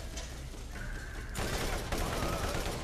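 Gunfire aimed at the player in the video game Borderlands, a steady wash of rapid shots that swells louder partway through and keeps going with no voices over it.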